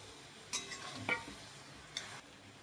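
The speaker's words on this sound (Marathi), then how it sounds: "आता हा मसाला आपण त्यामध्ये मिक्स करायचा आहे" Masala is stirred into fried onion and tomato in a pan for paneer tikka masala, with a few quiet spoon scrapes and clinks over a faint low sizzle.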